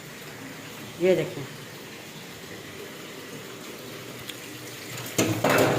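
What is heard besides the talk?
water running from a tap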